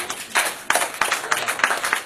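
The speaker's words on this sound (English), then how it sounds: "Please, let's give her a clap." An audience gives a short round of clapping at a gathering, with a few scattered, uneven claps in quick bursts at moderate distance.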